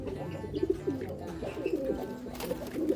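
Racing pigeons coo repeatedly in soft, throaty, rolling calls close by, several birds overlapping in a continuous low murmur with faint rustling.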